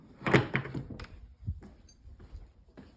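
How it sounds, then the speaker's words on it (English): A door that tends to stick and fight back is opened, giving a few dull thunks and knocks of handling, with a louder bump near the start and softer taps after, close by and alone. "I'm actually gonna open this door back up"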